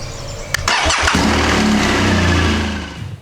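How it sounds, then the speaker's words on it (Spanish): A motorcycle engine cranks with a brief starter whir, catches, and settles into a loud, steady idle close by, tapering slightly at the end. "arrancar la moto y dejarla un buen rato arrancada"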